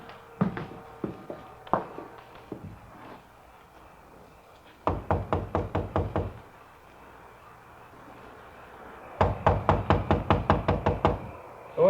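Sharp knocks on a door in a 1953 Dragnet police radio drama, delivered in three separate bursts of rapid raps, the last two long runs of eight to ten hard blows, with a few faint thuds early on.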